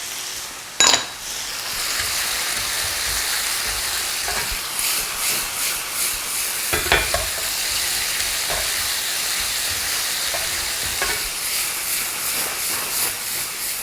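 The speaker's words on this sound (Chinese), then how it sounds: "大火翻炒一下，把这个番茄的果胶炒出来" Diced tomato with garlic and onion is stir-fried over high heat, giving a loud continuous hiss and sizzle with scraping stirs and a sharp clank of the utensil near the start, close up.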